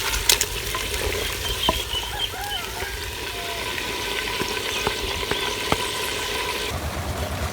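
Chicken karahi pieces frying in a clay handi, a steady close sizzle with occasional scraping stirs and light clicks, no talking over it.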